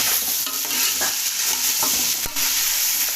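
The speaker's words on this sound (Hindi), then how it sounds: "इसको भी तकरीबन 5 मिनट हो गए हैं भूनते हुए" Vegetables and chicken fry steadily in a pan with a constant broadband sizzle, broken by a few soft scrapes and stirs near the close; no one speaks.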